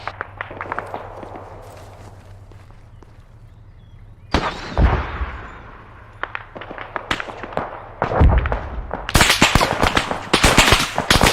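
A rocket fired at a BMP armoured vehicle in the video game ArmA 3 gives a loud launch blast followed by an explosion, with scattered crackling gunfire before and a dense burst of shots near the end.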